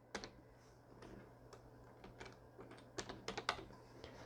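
Quiet clicks of a computer keyboard as a code is typed in during an online login, irregular keystrokes clustering into a quicker burst near the end, with no talk.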